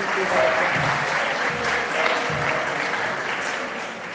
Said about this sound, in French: applaudissez pour la chorale